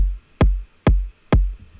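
Three deep electronic kick drum hits in a bass house track at a steady pace, each a crisp attack falling into a low, sustained boom, loud and isolated.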